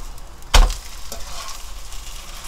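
Kimchi pancake frying in grapeseed oil in a pan, a constant close sizzle with one sharp clack of a utensil near the start.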